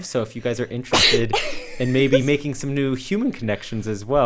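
A single sharp sneeze bursts out during a relaxed podcast conversation, landing about a second in, with people talking steadily before and after it.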